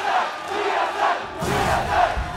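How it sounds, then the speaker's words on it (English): Large crowd at a League of Legends esports playoff match between Cloud9 and Team SoloMid chants loudly in an arena, with rival chants overlapping and swelling in a dense roar. "Conflicting chants from the crowd here in Game 5"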